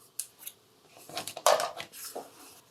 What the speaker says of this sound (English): You're just going to take your scissors and trim all of the extras.